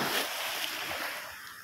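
River water lapping against an eroding farmland bank, a steady broadband wash of small waves with faint wind, continuous and fairly close, no talking.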